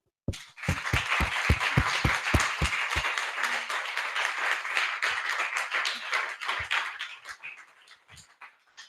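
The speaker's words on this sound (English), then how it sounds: "I would love for you to join me again in applauding them." Audience applause for artists at a literary reading event: a few slow, distinct claps open into steady, full clapping from a room of people, holding strong before thinning out to scattered last claps near the end.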